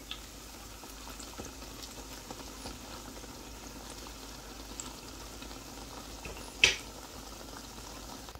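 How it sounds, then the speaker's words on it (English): Guyanese bara, a fried split-pea dough, frying in hot oil: a faint, steady sizzle and bubbling that continues throughout, with one sharper pop or crackle near the end. "So guys, this is my Bara frying now."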